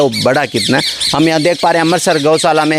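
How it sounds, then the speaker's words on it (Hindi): Birds chirp and squawk at a cow shelter (gaushala) in Amritsar, their calls faint and mostly buried under steady, close-up talking. "ये आपको चिड़ियों की चहचहाट सुनाई दे रही होगी।"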